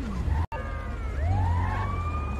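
A video game ambulance siren wails with rising, sweeping tones over a steady low engine hum, moderately loud and nearby.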